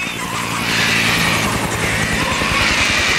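A helicopter approaches in the Jurassic Park video game, its rotor thumping in a steady, rapid rhythm under a loud, continuous engine whine and rushing air that stay strong throughout.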